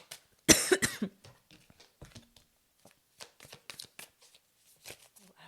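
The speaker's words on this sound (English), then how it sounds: "had to cough. I was coughing." One sharp, loud cough bursts out near the start, followed by quieter shuffling and small clicking noises.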